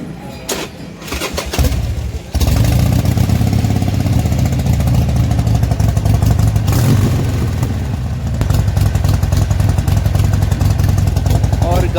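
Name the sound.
Harley motorcycle engine misfiring, changed exhaust note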